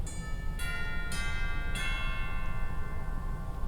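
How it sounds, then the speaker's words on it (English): Chimes on a theatre pipe organ ring out as four struck bell-like tones in quick succession, each bright attack leaving a long, shimmering decay, heard alone and moderately soft. "Also on the top we've got chimes."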